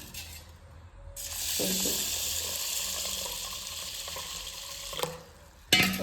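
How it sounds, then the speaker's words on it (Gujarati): Water pours steadily into a pot of two mixed lentils set to soak for dal vada, a broad rushing splash lasting several seconds, with light clinks of the vessel before and after. "પાણી નાખી દીધું છે."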